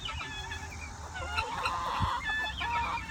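Chickens and turkeys in a yard, clucking, honking and gobbling calls overlapping in a busy, fairly faint flock chorus with steady background noise.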